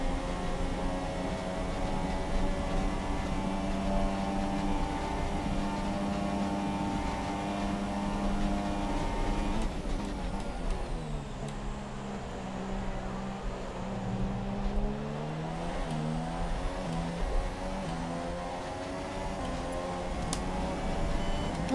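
A Formula 1 car engine screams continuously in a racing video game at the Japan Grand Prix, with the sustained high-revving pitch easing and shifting mid-run before climbing again.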